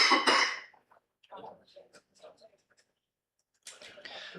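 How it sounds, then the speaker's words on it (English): A couple of harsh coughs burst out at the start during a live cricket stream commentary, followed by scattered muffled sounds and quiet, then a voice speaking near the end. "may have heard me coughing in the background"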